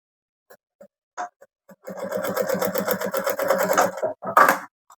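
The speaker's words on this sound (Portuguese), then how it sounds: "E começar a costurar de novo aqui com o retrocesso." A sewing machine runs a steady, rapid stitching burst of about two seconds while making a fabric bag, then briefly stops and restarts in a short backstitch run, with soft handling taps and clicks before it.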